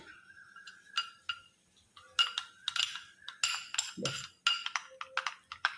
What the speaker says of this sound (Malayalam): ഇനിയിപ്പോൾ ഇത് നമുക്ക് നന്നായിട്ടൊന്ന് മിക്സ് ചെയ്യാം